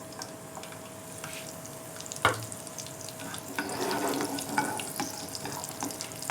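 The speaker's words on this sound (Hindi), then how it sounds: "ये देखें मैंने ऑयल गरम कर लिया है, और सबसे पहले हम इसमें ज़ीरा शामिल करेंगे" Cumin and garlic sizzle in hot oil in a home kitchen, a steady soft crackling hiss close by with a faint clatter of stirring and a single light knock.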